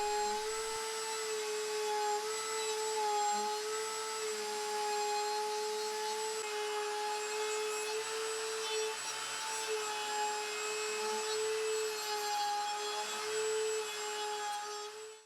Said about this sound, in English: Next I'll use a round over bit on my router table to smooth off all the edges